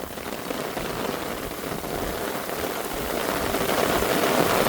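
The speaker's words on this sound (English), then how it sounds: "She be raining now." Steady rain patters on surfaces in a dense, even hiss that grows slightly heavier toward the end, with a faint engine hum beneath, during localized flooding in New Braunfels, Texas.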